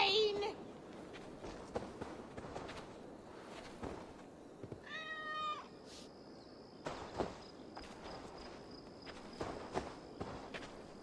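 Cats meowing in the video game Assassin's Creed Valhalla, a clear nearby meow among footsteps and scattered clicks, with someone shouting in-game at times.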